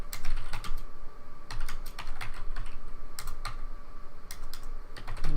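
Rapid typing on a computer keyboard, clusters of close crisp key clicks in uneven bursts with short pauses, no voices.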